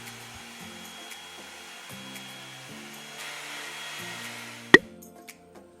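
A Revlon One-Step hair dryer blows steadily as thick sections of hair are dried at home, a continuous airy whoosh with faint motor hum, ending in a sharp click or bump before it quiets.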